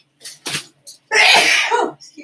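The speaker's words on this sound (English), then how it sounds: "I'm having a hard time not sneezing all the time." A person sneezes up close: a few short breathy intakes build up, then one loud, forceful burst of sneeze, followed by a faint trailing sound.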